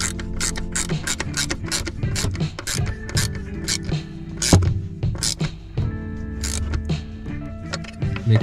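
Ratcheting wrench tightening a bolt on a GD3 car dead pedal: quick repeated metallic clicks in short bursts, close and fairly loud, with small scrapes and knocks between strokes.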